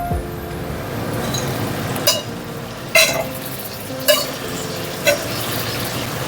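Kabuli chickpeas being tipped into a fried masala of spices, salt, turmeric and sugar, then stirred: a soft sizzle runs underneath, with four distinct metallic spoon clinks and scrapes spaced about a second apart.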